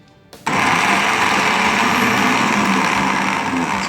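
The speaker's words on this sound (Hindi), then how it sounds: "तो हमारे जो स्लाइस थे वो भी हमने अच्छे से ग्राइंड कर लिए हैं।" Electric grinder pulverising hand-torn bread slices into crumbs: a click, then an abrupt loud, dense whirring roar that holds steady and close for several seconds.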